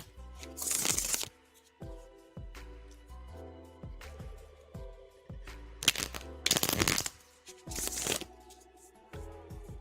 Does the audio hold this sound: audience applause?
no